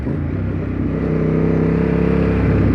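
A 2003 Ducati Monster 916 S4 engine runs loud and near, a throbbing low roar that swells gradually as the revs build.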